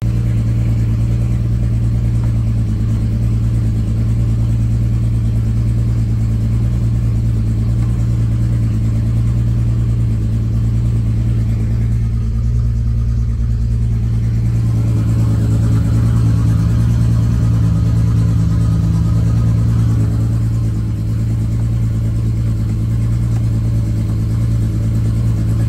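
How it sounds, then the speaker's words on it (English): A car engine runs after a cold start, holding a loud, steady low drone for the whole stretch with no talking over it. "Ooh, it's going to be a cold start."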